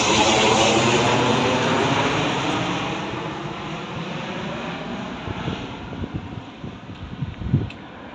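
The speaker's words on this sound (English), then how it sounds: "My wife says these are just army planes." A loud military propeller aircraft engine roar passes overhead in Phetchabun, Thailand, droning steadily and slowly fading, with a propeller rumble and no voices.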